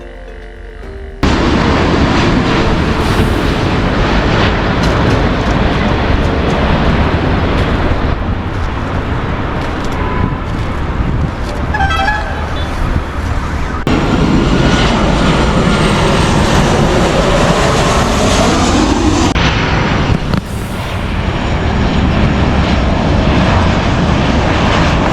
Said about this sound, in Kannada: ಸ್ಪೈಸ್ ಜೆಟ್ ಅದು ಇವಾಗ ಲ್ಯಾಂಡ್ ಆಗ್ತದೆ ಇದು.